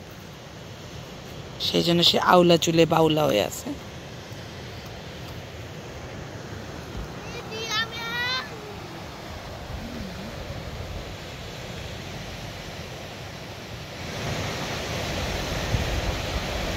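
Waves break against rocky shore on Gotland, giving a steady wash of surf and wind noise that swells near the end, while people talk briefly over it.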